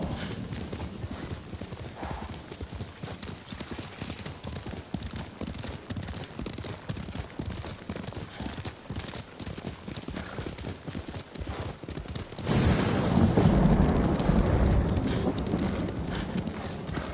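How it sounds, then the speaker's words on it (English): Rhythmic hoofbeats of a galloping horse in Ghost of Tsushima clatter steadily over a rumbling game soundtrack, swelling louder near the end with a brief whinny. "Good horse, Kage."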